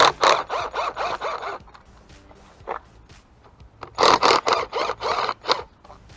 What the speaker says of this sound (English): take off these bolts.